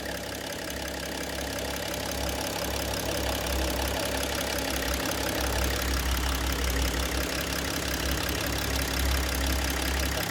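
A BMW X3 E83 3.0 diesel engine with a blocked DPF idles steadily nearby, a constant low rumble with a faint rhythmic diesel clatter and no talk.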